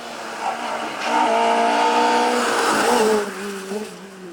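Rally cars rush past on a night stage of the Mull Rally, a loud engine roar with shifting pitch swelling to a peak and then fading, heard up close from the roadside.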